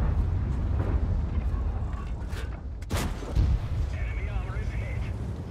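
A tank cannon fires in World of Tanks, one sharp blast cutting through rumbling engine and battle noise.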